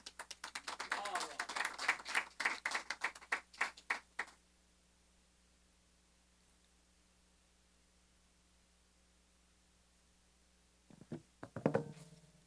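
Audience at an Urdu literary mehfil gathering claps in a dense burst of applause for about four seconds, falls quiet, then briefly claps again near the end.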